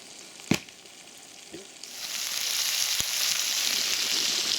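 Sausages frying in a pan over a campfire on a wild forest camp, a steady loud sizzle that swells after a couple of soft knocks and then holds.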